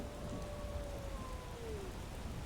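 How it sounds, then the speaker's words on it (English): Steady rain pours down continuously in the Skyrim video game, a dense, even wash of falling drops with faint tonal streaks over it and no voices. "So this rain keeps up, though."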